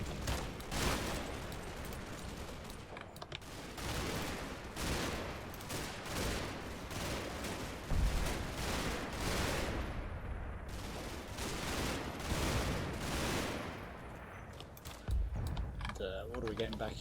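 Units open fire in the Combat Mission tactical war game, with repeated sharp bursts of small-arms and cannon fire crackling across the battlefield while people talk over it.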